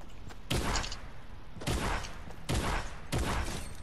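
Four sharp, loud gunshot bursts ring out from Fortnite video game weapons, spaced roughly a second apart, each with a short ringing tail over a low game background.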